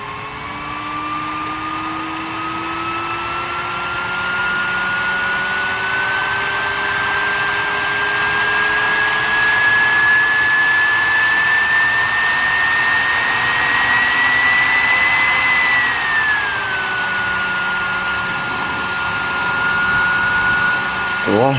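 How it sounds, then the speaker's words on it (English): A cyclone fan blowing air at high speed gives a loud, continuous jet-like whine and rush. Its pitch slowly climbs, then drops near the end, while a person talks over it now and then. "I call them a cyclone fan. It just sucks in and then blows out on one side."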